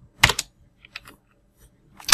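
A few keystrokes on a computer keyboard while entering a Vim command: short, crisp clicks in quick bursts separated by brief pauses, close and clear.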